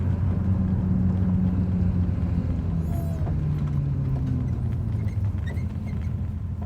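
A classic car's engine rumbles steadily from inside the cabin while driving, a continuous low drone with a faint squeak partway through and no talking.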